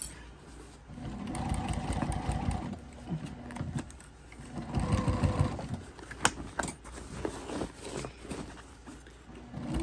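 A sewing machine topstitches a crossbody bag. It runs in steady whirring bursts with short pauses between them, close and moderately loud, with no talk.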